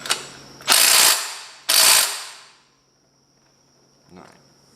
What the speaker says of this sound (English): Now that we've torqued them all down to 20, I'm going to grab my torque wrench